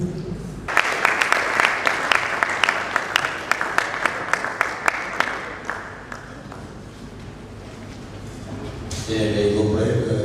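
A church congregation claps in a steady, brisk rhythm for several seconds, the applause fading out before a burst of broader room noise at the end.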